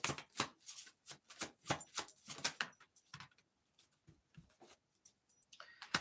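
Tarot cards being shuffled by hand, a rapid run of crisp riffling slaps and flicks that grows sparser and quieter, close and dry with no talking.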